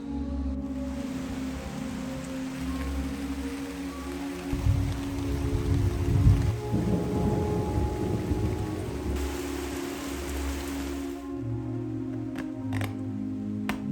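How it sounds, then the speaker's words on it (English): Steady rain falls on a day of continuous showers, a dense even hiss with faint tonal sounds beneath it that holds for the whole stretch, with no voices. "it's been raining all day"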